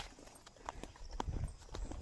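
A water buffalo (carabao) runs in the Philippine countryside, its hooves giving a quick, uneven clip-clop of close thuds over about two seconds, with faint voices in the background.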